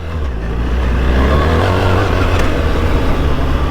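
A BMW R 1300 GS Trophy X adventure motorcycle engine pulls hard under acceleration on a mountain road, a loud, steady, close engine drone and rumble rising slightly throughout, with no talk.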